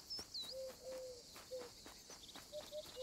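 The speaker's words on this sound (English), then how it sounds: "Now I'm constantly hearing this whoop whoop bird." In the wildlife game Alba: A Wildlife Adventure, a bird gives repeated short whooping calls amid a quiet ambient bed of insects and nature sounds, faint and fairly distant, with no talking.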